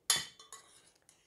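A spoon clinks against a bowl while stirring a tuna melt mixture, one sharp metallic knock followed by several softer, fading taps and scrapes, close and quiet.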